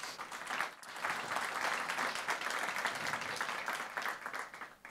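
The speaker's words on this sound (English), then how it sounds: "that deserves a big round of applause" Applause rises from the audience at a business leadership awards ceremony for Southern Africa winners, a steady dense patter of many hands, soft and somewhat distant, holding throughout.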